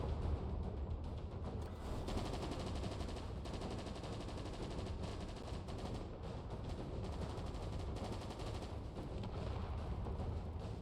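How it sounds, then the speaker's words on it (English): Gunfire in the space-building game Space Engineers pours out as dense, continuous rapid shots, a loud, heavy, unbroken barrage lasting around ten seconds. "That is a lot of gunfire coming at it."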